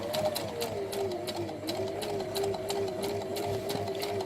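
A sewing machine stitches fabric for a Tilda doll, with a steady, fast mechanical clatter and a whirring motor hum running close and continuous throughout.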